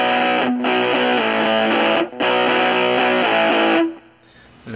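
An electric guitar through a Coffee Grinder fuzz pedal with the bass cut plays a buzzy, thin-toned chord riff, loud and steady with a short break, then fades out near the end.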